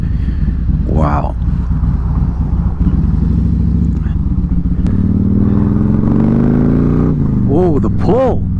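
Harley-Davidson motorcycle with a Stage 2 107 engine upgrade rumbling loudly up close, a deep steady lumpy idle that swells into throttle revs, with wind noise throughout.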